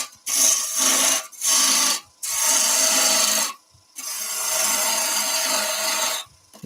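A gouge makes push cuts on driftwood spinning on a wood lathe, giving loud, hissing scraping bursts separated by brief pauses, roughly four cuts in a row.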